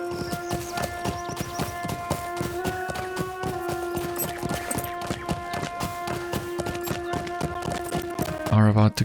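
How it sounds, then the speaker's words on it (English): Steady clip-clop of horse hooves at a quick pace in the fantasy online game LOTRO, loud and close over a constant tonal music bed, with a brief whinny-like sound near the end. "In fact, yeah, let me grab my horse"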